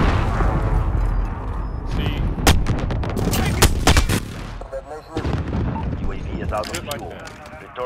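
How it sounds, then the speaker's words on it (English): Enemy precision airstrike in a Call of Duty video game, with a rapid string of heavy booming explosions and crackling gunfire that rumble close and loud, mixed with game voices talking. "Enemy precision airstrike inbound."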